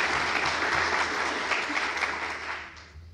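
A large audience in a university auditorium at an event opening applauds its volunteers: dense, steady clapping from many hands that holds evenly for about three seconds, then starts to thin toward the end.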